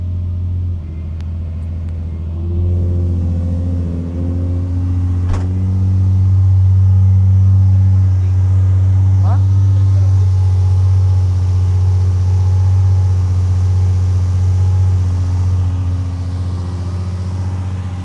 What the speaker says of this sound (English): I'm gonna turn the car on, start it up, see if there's any leaks anywhere